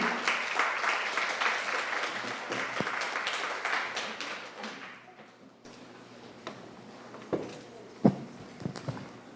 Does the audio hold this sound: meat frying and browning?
no